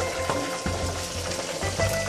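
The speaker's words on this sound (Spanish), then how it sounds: "mientras se nos van friendo los muslitos de pollo" Chicken thighs fry in a pot alongside carrots and leeks, giving a steady, dense sizzle with soft crackles and occasional pops throughout, and no one speaking.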